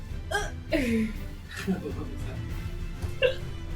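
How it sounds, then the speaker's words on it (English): A character in a Final Fantasy XIV Hildibrand cutscene hiccups several times, short squeaky catches spaced across a few seconds, quiet and close, with a voice talking in between. "Oh, hiccups?"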